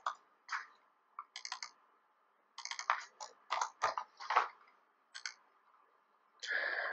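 Clicky bursts of typing on a computer keyboard come in short uneven runs separated by pauses, close and fairly quiet.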